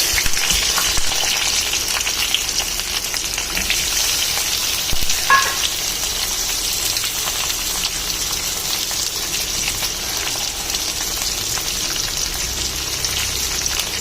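Onions fry in hot oil for a katla fish curry, producing a steady, close sizzle with crackling spatter and occasional stirring scrapes throughout.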